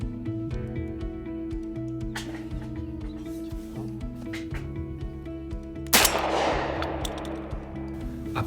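A single loud gunshot from a break-action hunting shotgun during a live-fire hunting licence exam, a sharp blast with a lingering outdoor tail after several seconds of quieter background noise.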